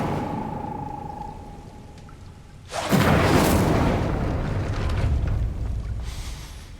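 An Incendio fire spell is cast in a Harry Potter video game, a sudden loud whooshing fiery burst that swells and roars for a few seconds before fading, following a quieter ambient hum, with no speech over it.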